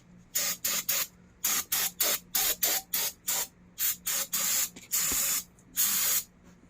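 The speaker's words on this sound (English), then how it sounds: "And I'll clean them all good with carb cleaner." Carb cleaner sprayed in about a dozen short hissing bursts, a few longer, onto the valves of a 2004 Subaru Impreza engine, close and loud with quiet gaps between bursts.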